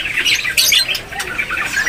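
Shrill, repeated bird squawks and chirps at a bird market fill the clip in quick bursts, close and fairly loud over a steady background hum.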